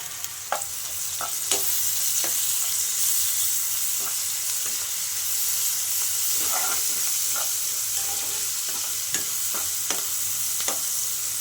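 Ginger garlic paste frying in a pan after onions and green chillies, for an ivy gourd fry: a steady close sizzle with sharp intermittent scrapes and clicks of stirring, no talk.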